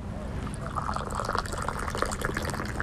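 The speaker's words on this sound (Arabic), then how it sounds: "أصب لك بقى كوباية شاي" Tea pours into a cup in a steady, continuous stream lasting a few seconds, heard fairly close and alone.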